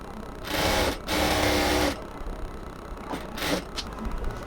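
A sewing machine stitches a salwar, with two long loud whirring runs separated by a short stop, followed by a couple of brief softer bursts, close up and with no talking.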